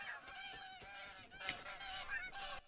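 Geese honk nearby in a hunting video game, a dense flock of overlapping, nasal calls that run steadily for a few seconds with no talking over them.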